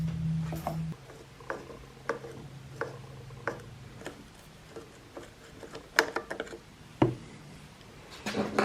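Small bolts are worked loose with hand tools on a leaf blower during carburetor cleaning, giving scattered faint ticks, clicks and metallic taps with quiet gaps, plus a low hum early on and a sharper clack near the end.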